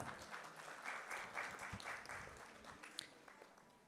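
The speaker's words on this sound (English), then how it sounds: "Please give them a warm applause" Warm, sustained audience applause at a conference session on Kerala's traditional sectors during a memento presentation, moderately distant and steady with a few sharper individual claps.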